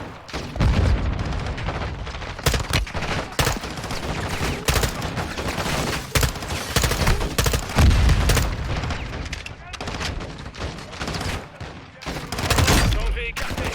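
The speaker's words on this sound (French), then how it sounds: "ça tire à travers les murs et tout" Dense, continuous gunfire in the Modern Warfare 2 video game campaign, with rapid bursts and heavy booms close and loud throughout. Game voices speak over the shooting.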